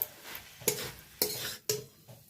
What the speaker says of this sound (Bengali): এক মিনিট ধরে একটু নাড়িয়ে চাড়িয়ে রান্না করে নেবেন